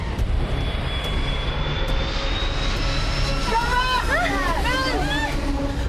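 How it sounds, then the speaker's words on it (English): An airplane landing too fast on a runway: a loud, continuous engine roar with a high whine that drifts in pitch, then warbling, sweeping tones near the end, heard up close throughout. "the plane is still going too quickly"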